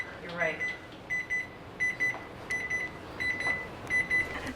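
A kitchen timer going off while banana bread bakes, beeping in short repeated bursts of high electronic tones at a steady rhythm, fairly close and moderately loud.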